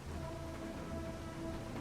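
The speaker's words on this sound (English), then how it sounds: "The rain isn't going to stop." Heavy rain pours steadily with a low rumble of thunder underneath, a dense, constant hiss with no voices, used as an audiobook sound effect.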